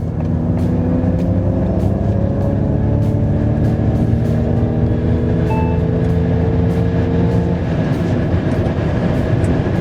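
A Ford Mustang Mach-E electric car takes off in a quick start. Rising tonal whines climb steadily over loud, constant road and drive noise, close up and with no talk.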